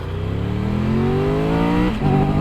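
A 2023 Triumph Tiger 1200 GT Explorer motorcycle engine pulls hard up close, its loud droning pitch climbing steadily for about two seconds before a brief dip as it shifts and carries on, with no voices.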